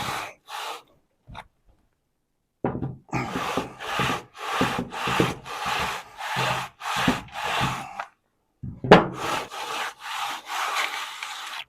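Sandpaper scraping back and forth across wood in a steady series of rhythmic strokes, close and fairly loud, with short pauses between bursts and no talking.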